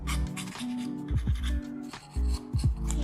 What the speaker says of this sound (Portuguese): A gente vem aqui lixando.